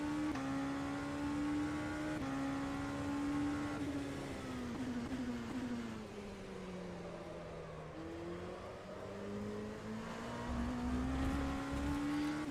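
An LMP2 race car engine in the rFactor 2 racing game on the Nürburgring drones steadily, its pitch sliding down and climbing again through corners, alone and without talk.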